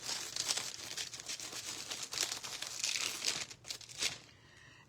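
Foil sheet crinkling and crackling as it is pressed onto a sneaker for foil art, a continuous close rustle with brief bursts, fading near the end.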